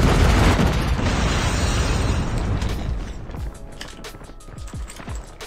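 A Predator missile strike in Call of Duty Mobile lands as a loud, broad roaring blast that rumbles and slowly decays over several seconds, followed by scattered debris pops.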